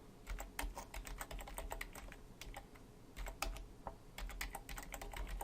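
Fast, irregular clicking of a computer keyboard as code is typed, close and fairly quiet, in bursts with brief pauses and no voice.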